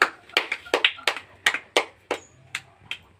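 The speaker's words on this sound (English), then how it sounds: "Clap for her, clap for her." Children clap for a classmate in a classroom: about a dozen sharp, separate hand claps, close and loud, in an uneven quick rhythm that thins out toward the end, with no talking over them.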